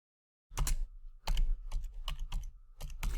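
Keys clatter on a computer keyboard as a Group Policy update command is typed at the command line, a quick run of separate close, crisp keystrokes.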